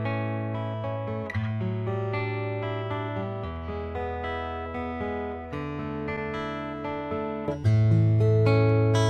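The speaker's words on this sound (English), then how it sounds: "Here is the sound of the standalone soundboard transducer," An acoustic guitar picked up by a SkySonic PRO-1 soundboard transducer alone plays a steady run of sustained chords and single notes, close and clean, with a brighter strum near the end and no voices.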